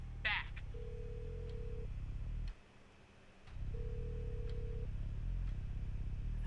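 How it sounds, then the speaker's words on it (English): A video game telephone rings in a steady electronic tone that repeats twice, with a brief drop in the background hum between rings and a short click at the start. "Answer your damn phone, Skinner!"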